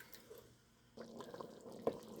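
A pot of chicken stock and clam juice for clam and scallop chowder at a boil, faint bubbling and soft liquid plops close by, with one sharper pop near the end.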